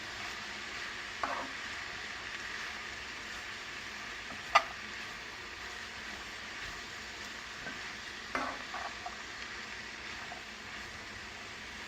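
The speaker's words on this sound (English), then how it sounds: "so ಇದನ್ನು ಸ್ವಲ್ಪ roast ಮಾಡಿ ಹಿಂಗೇನೆ ಉರಿ ಕಮ್ಮಿ ಇಟ್ಕೊಳ್ಳಿ" Cabbage palya roasts gently in a pan over low heat, a quiet, even sizzle with a few scattered clicks from a spatula, faint and steady without voices.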